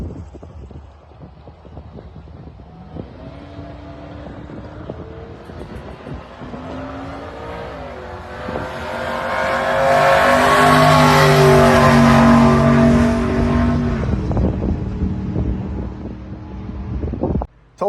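A 1989 GMC Sierra pickup truck revs and roars past in a drag race, building to a loud, droning peak before dropping away, with wind noise buffeting throughout.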